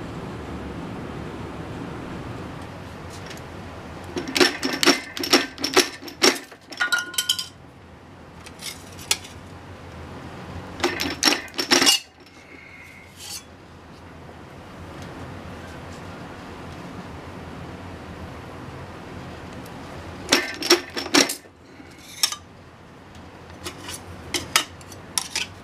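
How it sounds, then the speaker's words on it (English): Metal shears bite through a scrap of 1/16-inch aluminum sheet in several separate bursts of sharp crunching snips, each followed by quiet pauses, close and fairly loud against a faint background. "my scrap of 16th inch aluminum has been marked for cutting. Now I have to go to the shears."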